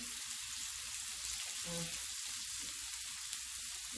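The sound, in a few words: bacon frying and sizzling in a pan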